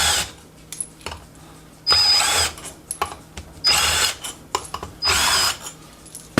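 Three bursts of a power drill whir loudly as small screws are backed out during a clutch spring install on a Can-Am Maverick X3, with quieter clicks and handling noises between bursts and no talk.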